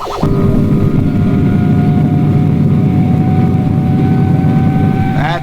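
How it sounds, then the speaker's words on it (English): Supercar, the craft from a puppet TV series, heard as a steady, loud engine drone with a deep low rumble and a sustained tonal whine, holding constant and close with no talk. "Aha, the engines are louder."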